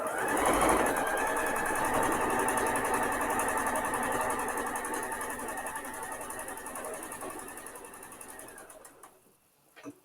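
A sewing machine runs a fast, continuous whirring burst while sewing a locking stitch on a patchwork seam, then slows and stops near the end with a small mechanical clunk.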